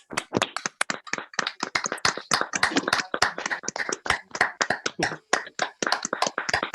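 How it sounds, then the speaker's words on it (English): Several people on an online call clap for the speakers, a scattered, uneven patter of hand claps from separate microphones lasting several seconds, with a faint voice underneath. "can we come off mute and just give a round of applause to all of our speakers, please?"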